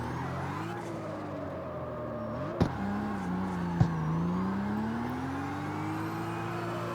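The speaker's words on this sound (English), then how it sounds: "This is definitely one of my most powerful cars that I have, like drift cars." A BMW M2 built as a drift car in the CarX Street racing game drones with a steady engine note that rises and falls through gear changes, with two sharp clicks, and no talk.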